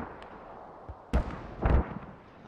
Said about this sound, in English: Artillery strike coming in.